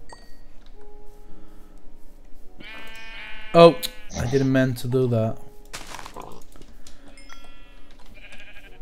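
A Minecraft sheep gives a few short in-game bleats in the middle of the clip, clear and close. A player talks over the quiet game ambience.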